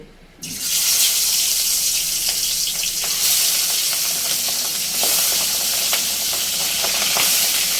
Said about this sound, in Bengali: তেল গরম হয়ে গেছে, মাছগুলো এবারে ভেজে নেব।